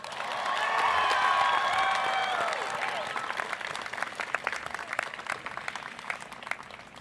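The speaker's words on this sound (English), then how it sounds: "let's give your family and friends a big round of applause" A commencement ceremony crowd breaks into loud, sustained applause with some cheering for graduates' families and friends, the clapping slowly thinning out toward the end.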